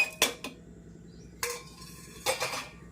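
Green chillies are tipped into a cooking pan for a mango and brinjal curry, producing three brief metallic clatters of utensil against pan, separated by quiet gaps, close and fairly soft.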